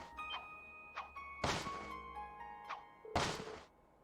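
Snowballs strike someone in the video game The Legend of Heroes: Trails Into Reverie. Two loud, sharp thwacks land a couple of seconds apart over soft chiming game tones and lighter taps.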